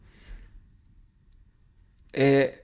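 A computer mouse clicks once while modelling in SolidWorks, a short sharp click that follows a stretch of quiet, with faint low rumble before it.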